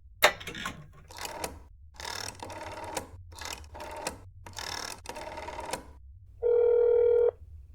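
Several short bursts of mechanical clicking and dialing noises in sequence from a telephone in a video game, ending with a steady electronic tone held for about a second, clear and close.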